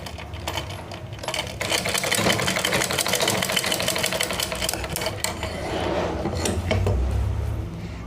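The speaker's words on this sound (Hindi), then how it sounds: "तो यहाँ से अपन कच्ची सिलाई कर देंगे।" A sewing machine runs a long basting stitch along cloth for a sleeve, whirring steadily and close by for several seconds with a faint rattling texture and no pauses.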